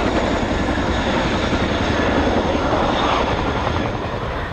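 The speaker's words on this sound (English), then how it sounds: "The aircraft will now execute the Gorni climb." A military aircraft flying a display at the RIAT 2023 airshow fills the air with a loud, continuous engine roar that stays close and powerful throughout, fading only slightly at the end.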